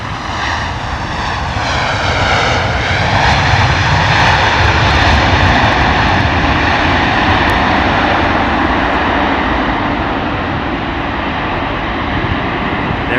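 An American Airlines jet in special livery lands at London Heathrow in wet, windy weather, its engines a loud, steady, close roar that holds across the whole stretch with no voices.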